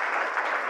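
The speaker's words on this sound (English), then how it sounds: "So please give a big round of applause to" Applause for the panelists at a university teachers' academy panel discussion, a dense, steady wash of many hands clapping throughout the brief moment with no voices on top.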